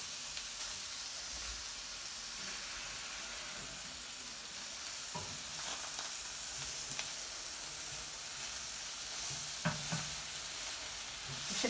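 Bread frying in a pan gives a steady, close sizzle that runs throughout, with a few sharper clinks and scrapes as it is stirred or turned.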